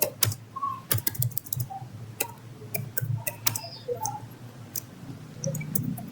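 Someone types Java code on a computer keyboard, producing irregular bursts of crisp close key clicks with short pauses and a few heavier strokes, no voices present.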